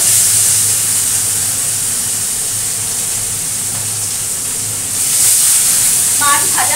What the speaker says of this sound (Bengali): মাছ ভাজা হোক।